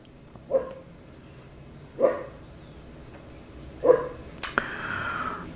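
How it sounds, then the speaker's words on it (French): A neighbour's dog barks through a window at a few spaced moments, three single yips followed by a sharper double bark, moderately near against a quiet room. "Il y a le chien du voisin qui m'a vu à travers la fenêtre. Il aboie parce qu'il me voit faire le taroscope."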